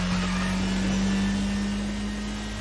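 A steady car engine drone from the Extreme Drift driving game holds one constant low pitch with a broad noisy roar above it, loud and unbroken, fading slightly at the end, with no talk.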